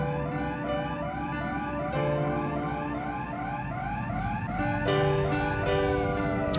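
A tugboat's loud, wailing siren sweeps up and down in repeated cycles, sustained and close, with no voices.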